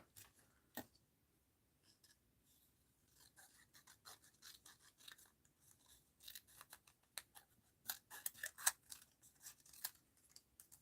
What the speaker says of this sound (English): Let's cut a strip here,